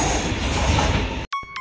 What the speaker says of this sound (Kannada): ಸೊ ಈಗ ಇದು ಹೊಸ ಟ್ರೈನ್ ಬಂದಿದೆ.